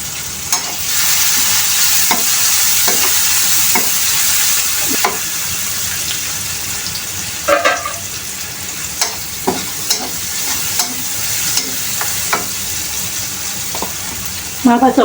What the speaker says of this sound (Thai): เริ่มต้นด้วยการเอาพริกลงไปคั่ว คั่วออกทอดนะคะ